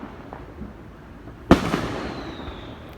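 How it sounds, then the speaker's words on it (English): Single firework bursting in the night sky, a sharp loud crack followed by a fading crackle and echo against quiet background. "That's my fireworks show for tonight."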